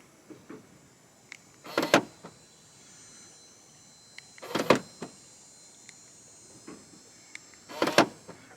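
Power door locks on a Ford Focus ZX3 SVT actuate three times, each a short, sharp mechanical clunk with a slight lag, heard close up against a quiet background with faint insect chirps.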